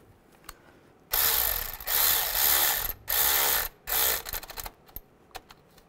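Rapid ratchet clicking as the camshaft position sensor bolts are tightened on a 1998-2010 Volkswagen Beetle, heard close up in several bursts of varying length with short pauses between them.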